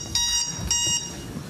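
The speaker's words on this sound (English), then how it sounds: "But I guess my timer can buzz me" A timer buzzer sounds two short, bright electronic bursts in quick succession over a quiet room during a lightning talk session.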